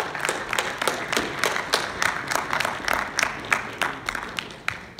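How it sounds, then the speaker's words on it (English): Audience applause after the introduction of a speaker, the CEO of Convergence of 4 Dimensions, at a tech talk event; steady, fairly dense clapping from a modest crowd runs throughout without a break and without speech. "Give him a good round of applause."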